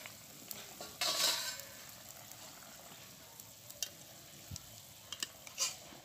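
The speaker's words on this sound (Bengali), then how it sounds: "ঝোলটা ফুটে গেছে, ঢাকনাটা খুলে দেখে নেব।" Curry broth with potatoes bubbles and sizzles in a covered pot, with a brief clatter as the lid comes off. A steady, soft frying hiss follows, dotted with small clicks and taps.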